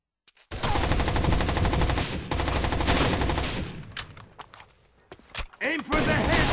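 Rapid automatic gunfire from the Rainbow Six Vegas 2 video game rattles loudly and almost continuously, then breaks into scattered shots and bursts near the end, with voices talking over the shooting.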